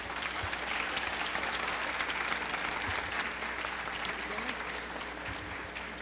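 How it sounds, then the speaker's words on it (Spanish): An audience applauds to welcome a panel at a Tec–UANL dialogue event, with steady, dense clapping sustained throughout from a crowd in a hall. "vamos a recibiros por favor con un fuerte aplauso"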